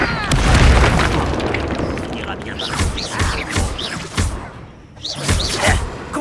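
Confringo fire spell blasts in the video game Hogwarts Legacy, a deep booming burst up front followed by several whooshing impacts and thuds amid game noise.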